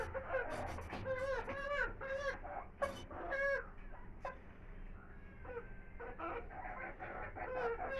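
Chickens cluck and squawk close by in the morning, in repeated bursts of sharp calls with short pauses between them.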